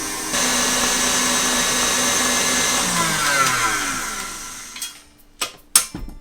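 An electric mixer runs at high speed, whipping butter into buttercream, a steady loud whirring drone that holds for several seconds before cutting out, followed by a few sharp clatters.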